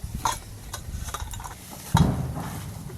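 Hands knead and squish a momo filling of minced onion, coriander, garlic, ginger, soy sauce, vinegar and oil. Wet, irregular squelching and rustling sounds are close-up, with a heavier push near the middle.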